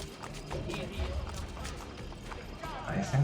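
Horse hooves clip-clopping in the video game Assassin's Creed Brotherhood, a faint run of hoofbeats beneath ambient game noise and talking.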